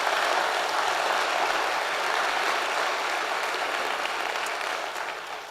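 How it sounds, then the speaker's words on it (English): An audience at a university address claps in sustained applause, a dense even patter that holds steady and then tapers off toward the end, with no voices over it. "So please join me in giving them a round of applause."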